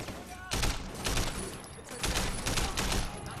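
Machine pistol gunfire in the video game Sleeping Dogs, rapid bursts crackling in clusters, loud and close, with a voice talking underneath.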